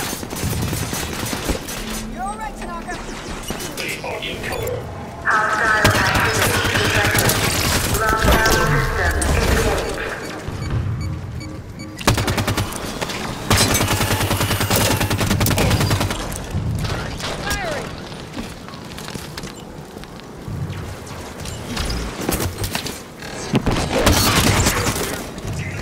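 Dense Halo 5 gunfire on legendary difficulty, rapid overlapping bursts and heavy booms rolling on almost without pause, with voices shouting over the combat throughout.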